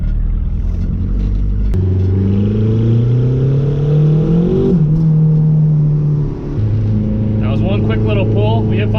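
A quad-turbo Honda Civic pulls hard under boost, its engine note climbing steadily in pitch with a brief dip between gears before rising again, loud and close throughout.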